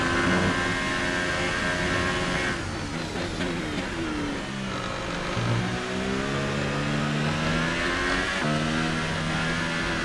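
A Formula 1 race car engine from the F1 2018 game at Hockenheim, revving steadily and loudly with rising and falling pitch sweeps as gears shift, continuous throughout with no talk.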